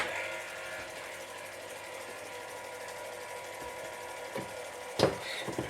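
A rock tumbler tumbling tiger's eye stones runs with a faint, steady mechanical whir, broken near the end by a couple of soft knocks and one sharper clunk; no one speaks.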